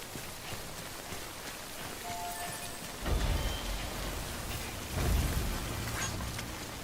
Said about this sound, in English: Don't stay out in the rain longer than you have to.